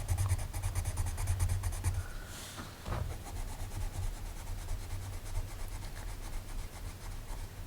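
Wax-based colored pencil scratching back and forth over toothy paper with heavy pressure, a close, continuous rhythmic scribble with a brief pause near the middle.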